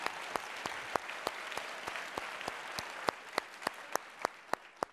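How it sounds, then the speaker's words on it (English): An audience at a civil-society and education event gives a congressman a round of applause, a steady dense patter of clapping with a few sharp nearby claps in a regular rhythm, sustained throughout. "Let's give Congressman Ryan a big round of applause."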